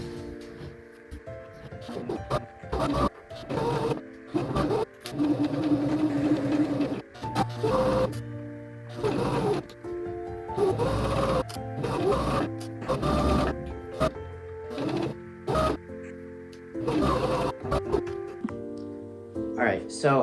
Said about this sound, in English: So I have my sewing machine set up.